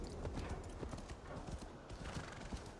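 Horse hooves clip-clop in the video game Assassin's Creed Valhalla. Quick, steady hoofbeats continue throughout over a dense wash of ambient game sound.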